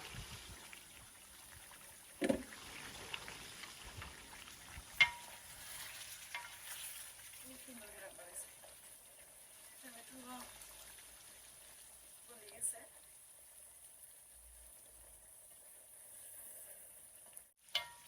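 Spice masala sautés in a pan for a Sylheti fish curry, a faint, steady frying sizzle with occasional soft stirring scrapes and clicks, while a voice speaks quietly.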